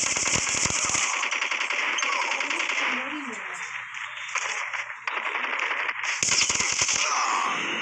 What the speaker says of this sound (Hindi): फिर हम गन चलाने जा रहे थे अपनी